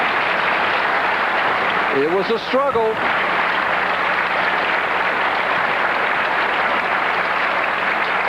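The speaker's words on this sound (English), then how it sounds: "The handshake, standing ovation from our crowd here" Standing ovation from the crowd at a 1995 professional bowling tournament, a steady broadband roar of applause filling the whole clip while a commentator speaks briefly over it.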